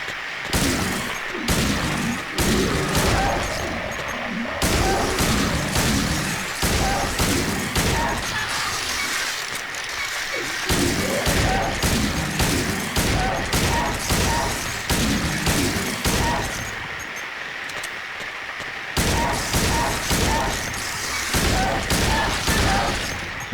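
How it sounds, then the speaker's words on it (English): Gunfire in the survival horror game Silent Hill 2, as enemies in an apartment building are shot one by one: loud, sharp repeated shots in irregular bursts with brief pauses, close and dominant. "So I'm gonna shoot them all one by one, but I'm not going to kick them."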